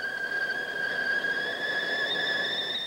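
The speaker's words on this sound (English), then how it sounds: "A kettle makes a high sound." A kettle whistles with a steady, high, piercing tone that holds unbroken throughout.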